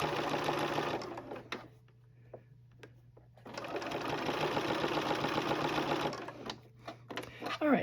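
A sewing machine stitches down the binding on a quilt in two steady runs of busy mechanical whirring, broken by a quieter pause with a few clicks and handling sounds in between.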